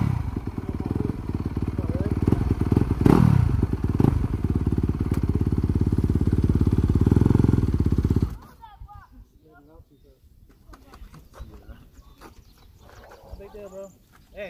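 A dirt bike engine runs loud and close for about eight seconds with a steady throttled buzz, then cuts out abruptly, leaving quiet outdoor background with faint voices and small clatters.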